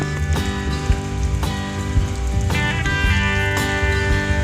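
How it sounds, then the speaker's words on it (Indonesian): Rain falls on a surface in a steady, continuous patter, layered with sustained musical tones that ring throughout at an even, fairly loud level. "Rintik air hujan dapat membentuk nada-nada indah"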